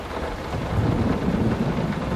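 Steady rain with rumbling thunder in the horror video game Layers of Fear, a dense, continuous wash of rainfall with a low rolling rumble throughout and no voices.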